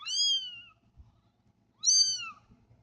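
Newborn kittens from a litter of six cry out, with two high, thin meows separated by a quiet pause and heard close with no talk.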